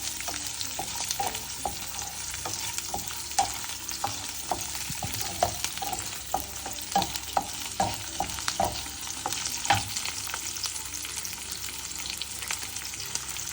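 Onion and garlic frying in a pan, a steady close sizzle with repeated scraping stirs at an uneven rhythm throughout, no voices.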